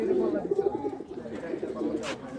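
Pigeons coo in low rolling murmurs close by in a rooftop loft where racing birds are kept, the soft throaty calls running steadily under a voice.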